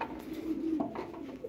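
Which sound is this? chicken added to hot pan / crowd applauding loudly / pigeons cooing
pigeons cooing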